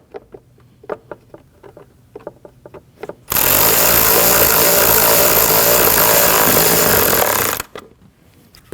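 A power tool whirs loudly and steadily for about four seconds while tightening a clamp during a downstream O2 sensor replacement on a 2013-2019 Ford Escape 1.5L, preceded by light clicks and taps from handling parts.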